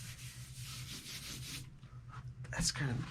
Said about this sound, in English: rubbing charcoal on it